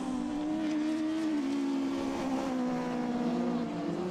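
Rallycross cars at Lydden Hill accelerate onto the tarmac, a sustained engine roar with a rising, wavering tone that stays steady and fairly close for the whole stretch, without clear talk over it.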